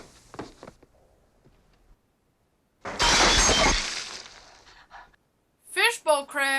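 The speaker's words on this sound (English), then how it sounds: "Fishbowl crashed." In a horror film scene from The Omen, a fishbowl crashes to the floor and shatters with a loud, sudden burst of breaking glass that trails off into scattered debris, followed by brief vocal sounds.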